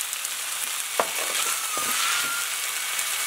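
Spring roll filling of vegetables and glass noodles being stir-fried in a wok, a steady sizzle with a couple of sharp spatula scrapes and knocks against the pan.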